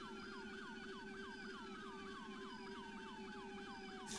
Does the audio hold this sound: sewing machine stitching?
no